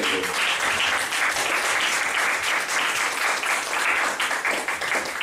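A church congregation applauds in a steady, dense burst of clapping that holds at full strength for several seconds, with no speech over it.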